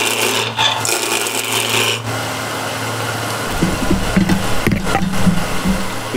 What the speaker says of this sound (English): And I'll rub this down with a skew chisel.